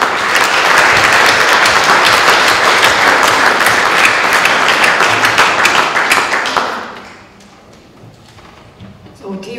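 A large audience at a talk on commoning and poverty claps loudly and steadily for about seven seconds, then the applause fades to a quiet room murmur.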